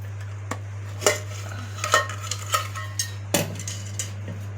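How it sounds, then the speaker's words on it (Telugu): Fish pieces being mixed by hand or spoon with oil, turmeric and ginger-garlic paste for a fish curry, giving soft clinks and scrapes against a bowl at an uneven pace over a steady low hum. "కొంచెం నూనె కూడా ఈ ముక్కలలా కలుపుకోవాలి"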